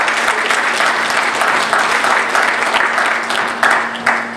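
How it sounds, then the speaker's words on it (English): A town hall audience in Benton Harbor applauds the mayor with a sustained, dense round of clapping. It is loud and even throughout, with a steady low hum underneath. "let's give our mayor another round of applause."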